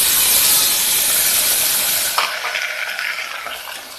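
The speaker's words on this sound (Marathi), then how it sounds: "आता त्याच्यात मी हे तांदूळ घालते." Rice tipped into a hot pot for aroma rice, a brief rattling splash rising over a steady frying hiss, then quieter sizzle and scraping as it is stirred.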